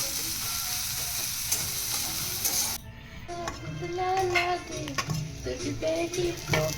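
Cumin, chopped onion and chilli frying in hot oil in a wok for a homemade aloo paratha, a steady close sizzle with stirring scrapes, the hiss briefly dropping midway before picking back up with rattling stirs.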